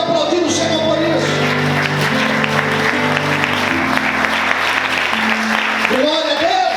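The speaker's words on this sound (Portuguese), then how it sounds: "Em nome de Jesus, você pode aplaudir o Senhor por isso." A church congregation claps during a Sunday morning service, the applause steady and fairly loud under organ-like sustained tones, spread across the whole moment.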